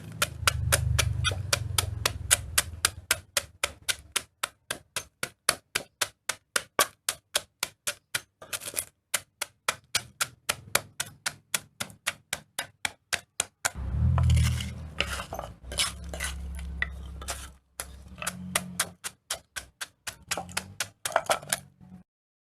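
Crispy pork cracklings pounded in a mortar for chili paste, loud, rhythmic thuds repeated dozens of times at a steady pace, pausing once before more pounding with crunchy crackle.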